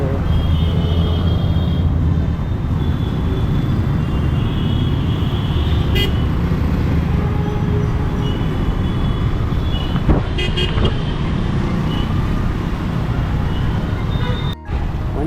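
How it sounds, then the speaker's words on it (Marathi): Dense road traffic in a Mumbai jam, heard from a motorbike on a ride toward Konkan: a steady loud engine and road rumble runs throughout, with a few short horn toots breaking through near the middle. "मरोळच्या मरोलच्या ट्रॅफिक जॅममध्ये आम्ही अडकलो आहे"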